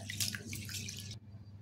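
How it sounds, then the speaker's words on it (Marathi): Running water splashes briefly as rice is rinsed, then cuts off abruptly, leaving only a low hum. "2 ते 3 पाण्याने आपण स्वच्छ धुवून घेऊया"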